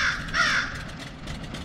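A crow caws near an aircraft, a raspy call that is loud and close at the start, then fades and repeats faintly against a steady background hum.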